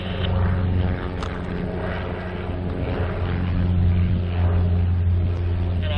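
A RANS S-21 light aircraft on a high-speed runway taxi gives a steady, loud engine drone with a buzzing propeller tone throughout, swelling slightly near the end, with no clear voices.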